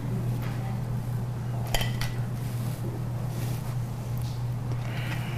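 Meatballs being served onto dishes, a couple of clinks of a utensil against a plate or pot, over a steady low hum of kitchen background.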